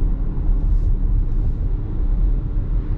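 An Audi e-tron electric SUV accelerating produces a steady low rumble and road noise with a faint whine, close and continuous, with no talking.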